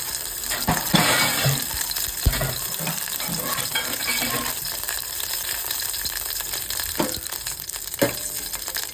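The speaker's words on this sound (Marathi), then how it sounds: "आता त्याच्यामध्ये मला टाकणार आहे कढीपत्ता जो की तडा तडा उडतो आता हा मस्त आवाज आला ना" Curry leaves tossed into hot oil for a dhaba-style Malvani chicken, crackling and spitting steadily over a bright sizzle, with a few sharper pops standing out near the start and end.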